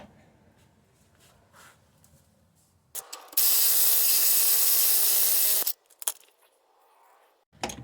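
Tools at work removing the rear shock absorbers on a 1996 Jeep Cherokee XJ: a quiet stretch, then a loud, steady whirring power-tool burst of about two and a half seconds, framed by a few sharp clanks.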